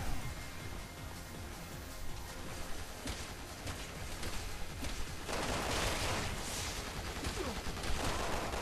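Gunfire in the Resident Evil 6 video game in Mercenaries mode: dense, continuous bursts of shots and blasts, loud and busy throughout, swelling in the second half.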